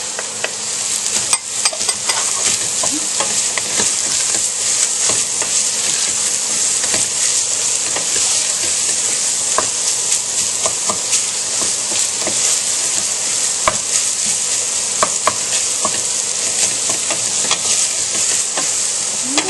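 Italian sausage and about two cloves of chopped garlic fry in a pan for lasagna, giving a steady bright sizzle and hiss with occasional stirring clicks and scrapes, continuous and close, with no talking.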